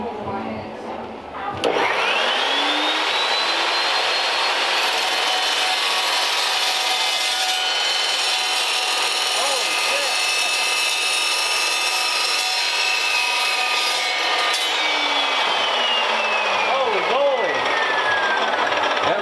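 Exhaust tubing being cut with a power saw in a shop, a steady loud grinding whine running continuously for about seventeen seconds, starting and stopping abruptly, with faint talk around it.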